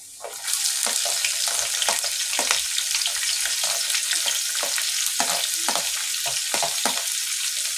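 Chopped onion drops into hot oil in a pan for a clam meat fry and sizzles loudly and steadily up close, broken by frequent crackling pops and stirring.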